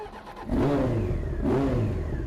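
A 1993 Honda CBR900RR motorcycle revs up under way in traffic, the engine pitch climbing in two rising sweeps as it pulls through the gears, close and loud with no talking.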